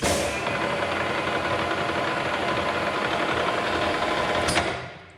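A 5 horsepower XYZ DPM 3-axis bed mill with an air power drawbar and air brake runs steadily and close, a constant mechanical hum and whir that holds throughout and then winds down near the end.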